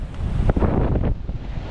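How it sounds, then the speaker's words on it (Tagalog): Strong wind buffets the microphone over crashing 8 to 9 foot waves on the open West Philippine Sea, a dense, loud roar with surges of surf, heard from aboard a boat. "Malakas ang hangin ngayon mga amigo kaysa kaninang umaga"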